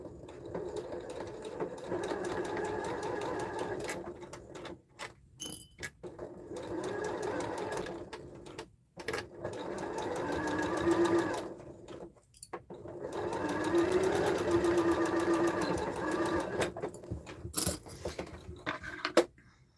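A sewing machine stitches a bag lining in bursts of steady running, pausing briefly between seams, close and fairly loud with no talking.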